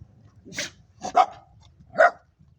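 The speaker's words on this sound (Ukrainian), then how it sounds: "Ти чого гавкаєш на мене?" Small dog barks indoors, a single yap followed by two sharper barks in quick succession, close and fairly loud with quiet pauses between.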